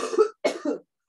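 A person coughs on a video call, two harsh bursts close to the microphone with a short gap between them, then silence.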